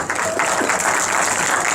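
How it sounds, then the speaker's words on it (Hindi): A burst of audience applause at a university Q&A session, steady broadband clapping filling the whole moment without a break, fairly loud and close. "तालियां बजाओ रग्बी के लिए"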